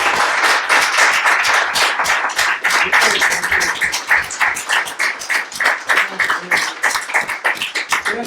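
Audience applause fills a room at a talk with Calica Ferrer and Santos Nicolini, dense irregular clapping close and loud, pulsing in uneven bursts for about eight seconds.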